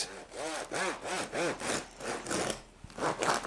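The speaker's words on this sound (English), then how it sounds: "Let's cut them to see the inside." A knife saws through a crusty sourdough loaf in repeated back-and-forth strokes, a close, crackly rasping that comes in steady rhythmic bursts.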